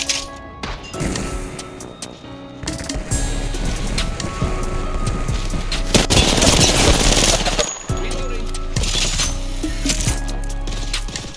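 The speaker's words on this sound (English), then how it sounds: "They shooting at Bangalore, huh?" Dense video game gunfire rattles almost nonstop in rapid automatic bursts with sharp cracks and impacts, loud and close throughout, with a brief dip before the shooting resumes.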